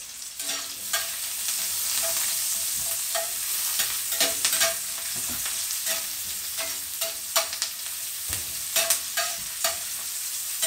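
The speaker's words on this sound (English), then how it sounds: "We're going to start off with sauteing our white onions." White onions sauteing in a pan give a steady sizzle, with irregular stirring scrapes and clicks of a utensil scattered over about ten seconds, close and moderately quiet.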